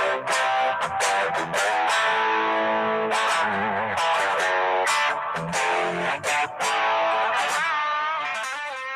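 Electric guitar, a Gibson SG, played through a boutique overdrive pedal, giving loud, sustained distorted chords and riffs with sharp picked attacks, steady throughout with no talking.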